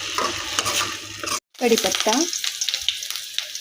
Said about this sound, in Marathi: एक छोटा बटाटा बारीक चिरून घेतलेला आणि त्यालाही तेलात तळून घेऊयात